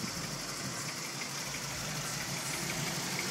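A 1987 Cadillac Brougham d'Elegance with a 305 V8 idles with the hood up, a steady, fairly faint low rumble with no talking.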